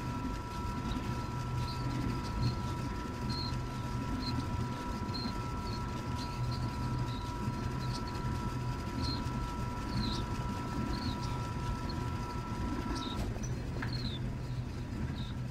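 A continuous low rumble of a moving train in the video game Call of Cthulhu, with a steady tonal hum, plus faint chirps scattered above it.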